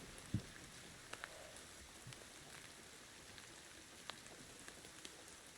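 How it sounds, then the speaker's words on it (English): Rain falls steadily in a humid rainforest temple area in the video game Indiana Jones and the Great Circle, a soft constant patter with occasional louder drops, quiet and without voices. "And it's raining, which, makes sense."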